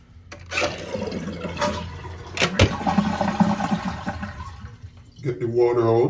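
A toilet is flushed with the water supply shut off to drain the tank before repairing a leaking flush valve, giving a loud close rush of water that gurgles down, then a trickling refill sound, with someone talking over it.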